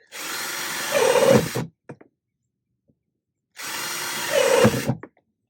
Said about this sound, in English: we're just going to drill 2 holes in the back.